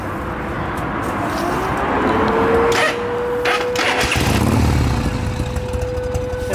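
A 1979 Harley-Davidson Shovelhead FLH Electra Glide with engine mods cranks and fires up, its loud, close engine settling into a rough, lumpy idle as a faint siren-like tone rises steadily in the background.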